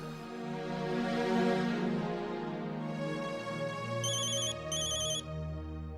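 A phone rings with a melodic electronic ringtone during a call scene in a Marathi TV serial, a sustained chiming tune that repeats clearly with no one talking.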